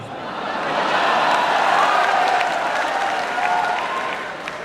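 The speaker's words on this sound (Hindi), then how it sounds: "मैं जानता हूं मैं अगली पंक्तियां जो पढ़ने जा रहा हूं उस पे आपकी तालियां आएंगी" A crowd applauds steadily, the clapping swelling to a peak and then easing slightly, with faint crowd murmur underneath.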